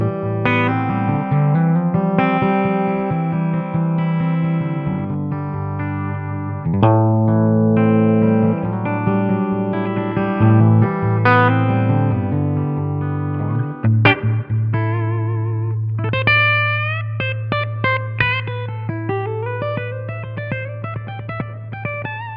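An electric guitar plays through the clean channel of a Jared James Nichols signature Blackstar amp head and cabinet, picking clear sustained notes and chords. Later it moves into brighter, ringing phrases, played alone and up close with no talking.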